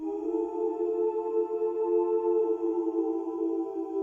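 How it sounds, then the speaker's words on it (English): A sustained choir sample from Splice, a steady wordless vocal pad holding one chord at low level, smooth and unbroken, with no other sounds. "Then we have this choir that I found on Splice."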